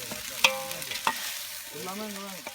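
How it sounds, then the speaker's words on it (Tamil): Onion, tomato, green chili and ginger-garlic paste are stir-fried in a pan, with soft sizzling under a few sharp clatters of a spoon scraping the pan and some faint tonal kitchen noise nearby. "இப்போது வெங்காயம், தக்காளி, பச்சை மிளகா, இஞ்சி பூண்டு விழுது போட்டு பெரிய கோட்டையை சேர்ந்த கண்டியர் அவர்கள் பிரட்டி கொண்டிருக்கிறார்"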